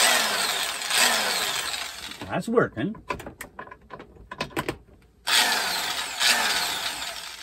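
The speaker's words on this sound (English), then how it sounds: "So here's the drill." A power drill runs off a 2000-watt pure sine inverter in a van, whirring loudly for a couple of seconds, stopping while a person speaks briefly, then starting up again and running steadily.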